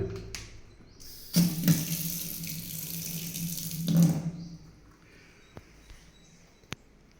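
Water from a bore supply runs from a kitchen tap in two short gushing bursts, each starting and stopping abruptly, with a quiet room between them and no talking.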